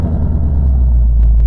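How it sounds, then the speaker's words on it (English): Ford Mustang Dark Horse V8 engine starting by remote from the key fob and settling into a loud, steady idle rumble, close by and with no voices. "So, press lock and press remote start twice,"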